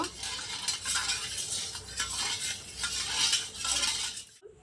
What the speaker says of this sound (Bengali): এই জলে দিয়ে দেব লবণ। লবণটা গুলে নেব।